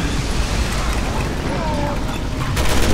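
Explosion in the Resident Evil 6 video game: a dense, sustained roar of blast noise with low rumble filling the whole stretch, brightening with crackling debris near the end, while a voice talks faintly underneath.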